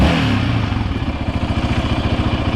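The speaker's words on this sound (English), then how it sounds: "Just so you guys can hear the engine" Yamaha Raptor 700 ATV engine, warmed up, revving briefly and then settling into a loud, close, steady idle with a rapid, even pulsing throb.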